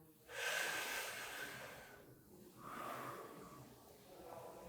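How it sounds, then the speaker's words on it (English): Breathing in through the nose and out through the mouth during a facial fascia exercise, a long audible airy inhale followed by a softer exhale, close and alone. "3 times in through the nose and out through the mouth together"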